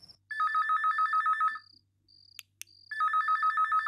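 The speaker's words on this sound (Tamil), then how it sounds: "இந்த நேரத்தில் யாரு ஃபோன்?" A phone rings loudly in rapid warbling trills, pausing briefly with a couple of clicks before the electronic ring starts again.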